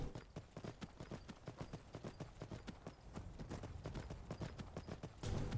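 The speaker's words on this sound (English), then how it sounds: "not only have I got the better horse sounds" Horse hooves clip-clopping steadily in Skyrim with modded horse sounds, a rapid even rhythm of close, crisp hoofbeats continuing throughout with no talk.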